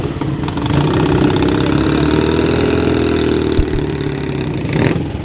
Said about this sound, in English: The back pressure from that exhaust was incredible.